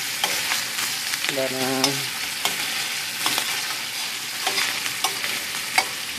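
Sliced roast beef fries in a pan for an omelet, giving a steady close sizzle with scraping stirs and clinks, while a voice briefly speaks partway through.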